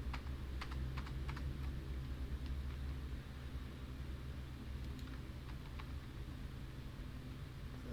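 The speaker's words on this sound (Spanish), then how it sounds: "vamos a darle un enter acá, un enter acá y damos control S" Typing on a computer keyboard, including presses of the Enter key and a Control-S save shortcut, giving a few scattered light clicks close by over a steady low background hum.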